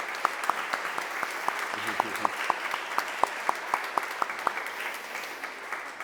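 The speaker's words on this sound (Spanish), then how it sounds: "os pediría, por favor, un aplauso para Javier Gil" Scattered, evenly spaced claps ring out at a book presentation event in Gijón, with sharp individual hand strikes rather than a dense roar, over faint room noise and a brief murmur of voices.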